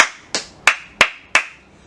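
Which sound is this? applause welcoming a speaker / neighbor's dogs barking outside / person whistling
applause welcoming a speaker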